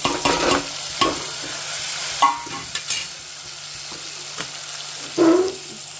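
Tomatoes frying in a pan while pasta is being made, with a soft steady sizzle broken up by several sharp scrapes and clinks of a spoon stirring against the metal, all fairly close and with no talking.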